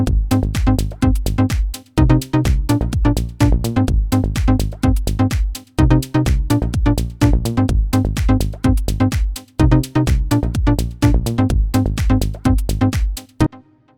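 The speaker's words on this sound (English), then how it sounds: "program an amazingly simple little track for a pluck sound and a bass sound and a drum loop" A simple electronic track built from a pluck synth, a bass synth and a looping drum beat, with punchy rhythmic hits and short plucked notes repeating steadily, loud and without voices.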